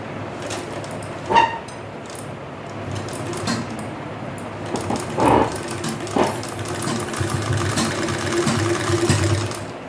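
Foot-pedal treadle sewing machine stitching lace onto a kameez, a low continuous mechanical whir with a few louder knocks and clunks, close by and without talk.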